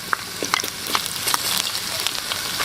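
Garlic frying in a pan with chili flakes, a continuous bright crackling sizzle with small irregular pops throughout, close and fairly loud.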